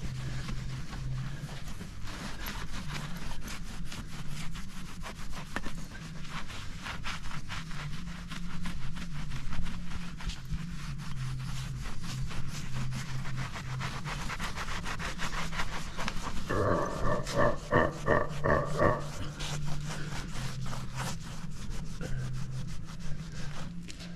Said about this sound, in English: And then we're just gonna rub it in. Not out. Rub it in. A good rub in